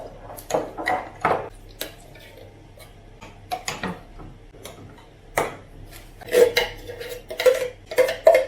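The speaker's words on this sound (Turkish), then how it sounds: "Konserveyi de şöyle biberin üzerine dökelim. Karıştıra karıştıra." Canned tomatoes poured over peppers in a pot and stirred, giving irregular metallic clinks and knocks of a utensil against cookware, growing busier and louder toward the end.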